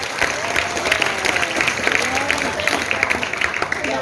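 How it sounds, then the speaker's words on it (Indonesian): A school audience claps for a grade 8 class at a student literacy event, a steady wash of applause running the whole time beneath a voice talking over it. "tepuk tangan untuk kali dulu"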